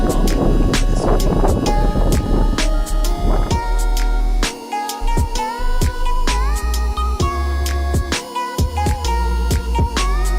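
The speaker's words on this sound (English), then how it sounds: "it's quite windy" Strong gusts of wind buffet the microphone at the top of Tughlaqabad Fort, a roaring, continuous rush with brief lulls, loud and close throughout.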